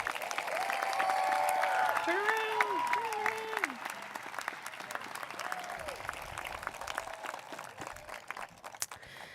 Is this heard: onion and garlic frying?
no